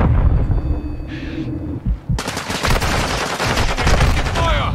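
Gunfire in a Call of Duty match, starting with muffled game noise and a brief lull, then a loud rapid burst of automatic shots fired close and continuously for a few seconds.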